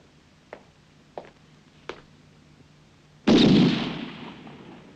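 A firing squad looses a single loud, sharp rifle volley that booms and then decays slowly. It follows three faint, brief clicks a few seconds earlier.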